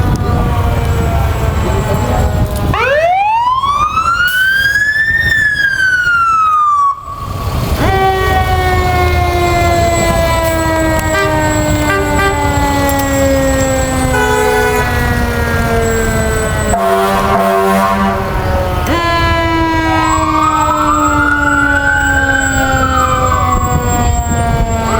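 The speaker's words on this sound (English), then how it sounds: "The Williamsburg Fire Department Rescue Truck Unit 22 and Tanker Unit number 23." Williamsburg Fire Department Rescue Truck Unit 22 and Tanker Unit 23 sound their sirens at a 2018 veterans parade: loud, close wails rise and fall in overlapping sweeps, with steady tones continuing throughout and no talking.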